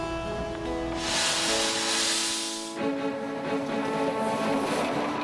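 A steam engine lets off a loud broad hiss of steam that swells for a couple of seconds and then fades, over a steady mechanical drone.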